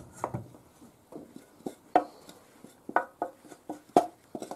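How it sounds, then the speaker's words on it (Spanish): Churro dough being kneaded by hand on a kitchen countertop, giving soft, irregular thumps and slaps about once or twice a second, close and fairly quiet with nobody speaking. "Y se sigue amasando."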